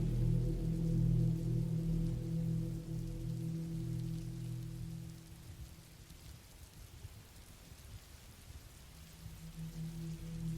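Heavy rain pours down in the woods with a low rumble of thunder underneath, a dense steady hiss that eases slightly midway and then builds again.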